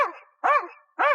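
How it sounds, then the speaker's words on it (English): An agitated dog barks three times in quick succession, each bark sharp and loud, close by, with brief silences between them. "you're agitating the dog"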